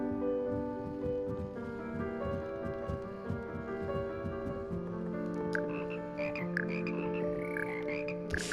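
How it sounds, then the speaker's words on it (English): Frogs croaking steadily in Hogwarts Legacy, a dense chorus of rhythmic, resonant croaks that holds up throughout, with sparkly magical chimes joining toward the end. "Frog sing too?"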